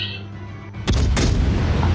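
A single heavy warship cannon boom in World of Warships bursts in after a quiet moment, followed by a rumbling low roar as it rolls away.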